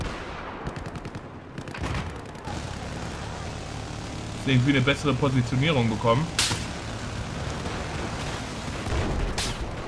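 Battlefield 4 gunfire rattles in the distance, with bursts of automatic fire and aircraft rumble beneath someone talking over the action, and a louder cluster of rapid shots partway through.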